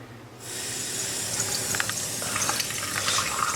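Water gushes steadily from a kitchen tap after a brief quiet start, a close, continuous splashing stream with no voices.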